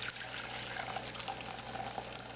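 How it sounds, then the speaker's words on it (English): Hot juice from cooked barbecue pork ribs pours from a container into a bowl, making a steady, soft liquid trickle and gush close up with no talking. "I want to get this juice into this bowl right here"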